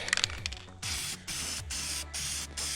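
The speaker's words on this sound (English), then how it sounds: "I'm going to hit this with some black paint" A spray paint can coating a car motor mount black, starting with a few rattles and clicks, then four long hissing bursts separated by short pauses, close and clear.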